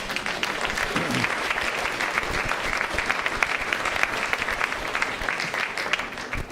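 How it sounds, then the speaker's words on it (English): A conference audience at a Martin Luther King Jr. Day talk breaks into sustained applause, a dense even wash of clapping with a few murmured voices beneath it. "every time I diss evidence-based outcomes, you always get applause?"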